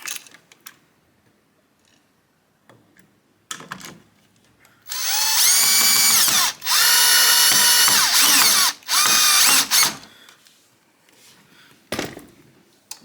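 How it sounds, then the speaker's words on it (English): A power drill whirs in three loud bursts, driving screws during electrical rough-in work in a house renovation, with brief pauses between and light handling clicks before and after. "tightening these screws with the drill"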